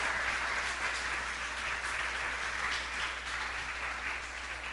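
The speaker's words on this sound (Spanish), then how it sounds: "¿Cuántos podemos darle un fuerte aplauso a Dios porque Él está aquí?" Steady applause from a church congregation, a dense wash of clapping that holds at an even level for the whole stretch without pauses.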